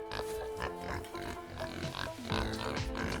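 Pigs being moved by truck in the pork industry grunt and oink repeatedly in short overlapping bursts, several animals close by, with a faint background hum.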